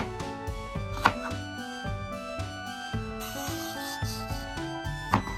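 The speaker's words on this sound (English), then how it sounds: "Cut everything into chunks, just enough to fit in your blender." A couple of sharp knife chops on a cutting board as vegetables are cut into chunks, spaced seconds apart, beneath steady melodic background music.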